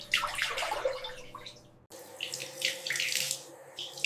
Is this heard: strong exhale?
no